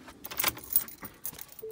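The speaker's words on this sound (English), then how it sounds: "Turn off, take the keys out." Car keys jangling as they are pulled from the ignition of a 2016 Ford F-150 truck, a few soft, scattered metallic clinks close by, with faint rustling and no talk.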